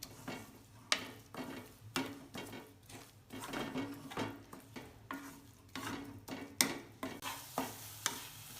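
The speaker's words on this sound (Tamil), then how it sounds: "நம்ம இப்போ கிளறிட்டுருக்கோம்" Grated coconut being stirred in a pan for coconut burfi, a spoon scraping and knocking against the pan in an irregular rhythm over a low sizzle, close and fairly quiet, with no talk.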